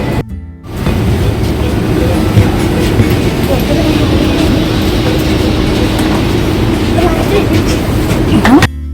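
A train running from Zurich to Paris produces a continuous heavy rumble heard from inside the carriage, starting after a brief quieter moment and holding steady and loud to the end.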